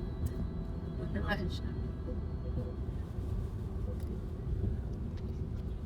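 A car climbs a mountain ghat road near Lonavala on a rainy day, its steady low engine and road rumble continuous and close from inside the cabin, with voices talking over it.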